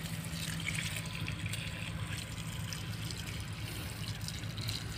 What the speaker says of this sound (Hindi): पानी चालू कर दिया है